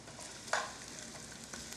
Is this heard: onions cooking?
yes